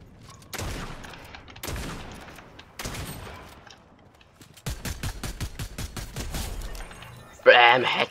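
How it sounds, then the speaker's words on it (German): Video game gunfire: several separate loud shots with sharp decays, then a rapid burst of evenly spaced shots, ending in a bright crackling impact. No other sounds compete. "Bam, Headshot."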